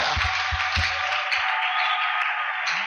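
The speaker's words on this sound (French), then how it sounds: "Applaudissons fort le Seigneur" A church congregation claps together loudly and steadily, a dense wash of hand claps that fills the room, with a few low thumps near the start.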